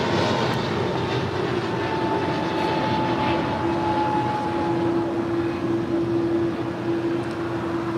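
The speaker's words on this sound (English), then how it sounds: "Taking off there was Alaska Airlines Flight 503 heading to Seattle in an A321neo." An Alaska Airlines A321neo takes off from LAX with a sustained jet roar and a rising, whining engine tone, heard at some distance.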